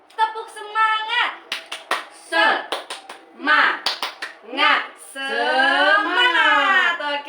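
A class of children chants the rhythmic 'tepuk semangat' clapping routine, sharp claps falling in quick groups between loud chanted words, ending with drawn-out voices.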